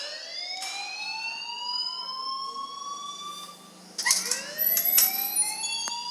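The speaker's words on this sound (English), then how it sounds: "please turn off that alarm since that's your job" A continuous electronic alarm rings in the video game Life Is Strange, a steady rising siren-like tone that loops without pause, with a few brief knocks and clatters mixed in toward the end.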